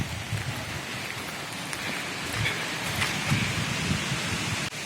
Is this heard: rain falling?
yes